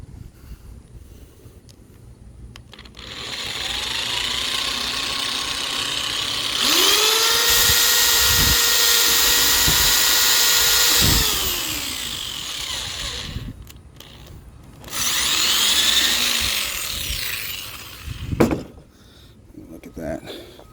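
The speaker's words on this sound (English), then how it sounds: "and then let's start drilling" A power drill whirs loudly for several seconds drilling through a 2013 Ford F-150 truck bed, stops and restarts in a shorter burst, with a few sharp knocks and some talking around it.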